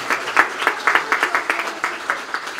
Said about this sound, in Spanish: Fuerte el aplauso a nuestra Madre, que cuida y nos acompaña en medio de la enfermedad.